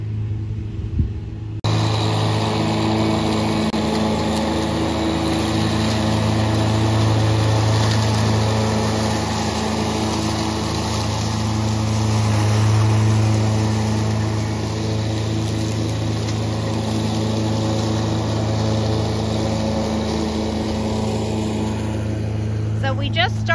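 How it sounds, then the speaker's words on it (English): A Cyclone Rake engine-powered leaf collector running in a yard, its motor droning steadily and loudly with a low rumble and periodic swells, starting abruptly and continuing throughout. "Again, it's called the cyclone rake."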